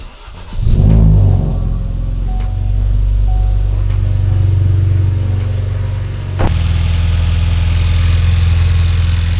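A 2018 Ford Focus RS engine cranks and fires, then settles into a loud, steady idle, its tone stepping up briefly toward the end.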